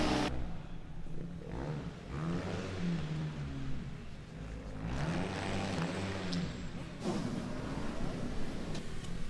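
A Formula Student autocross car from the Erlangen team drones through the end of its lap, engine tone rising and falling under continuous commentary, with a loud steady roar that dips briefly as it brakes.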